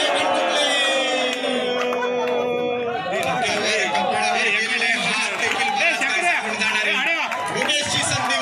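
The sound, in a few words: crowd clapping and shouting at a bowl-out match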